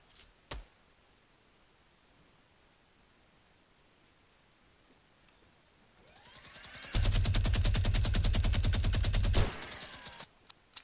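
Rapid automatic gunfire in the Fortnite video game, a loud continuous burst of shots lasting about three seconds after a quiet stretch with one early single shot.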